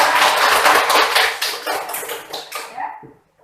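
A group of people clap their hands together in a classroom, a loud dense burst of applause that thins out and fades to silence near the end.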